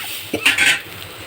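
A ground spice paste is stir-fried in a pan, with a couple of quick metal scrapes of a spoon against the pan over a faint background sizzle, close and brief, without any talking.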